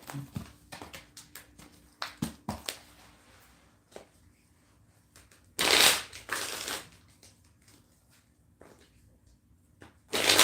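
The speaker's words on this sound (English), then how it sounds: "let me get a good shuffle in first off" A deck of cards is shuffled by hand with scattered soft taps and flicks, then a loud riffle burst in the middle, another brief riffle at the end, and quiet handling between them.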